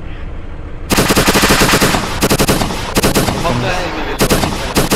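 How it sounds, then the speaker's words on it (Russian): Heavy machine-gun fire in an ArmA 2 ACE battle hammers out in long, loud, rapid bursts with short pauses between, while a player speaks briefly over the shooting. "По нам стреляет, по нам стреляет."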